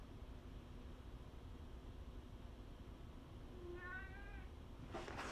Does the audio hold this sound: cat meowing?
yes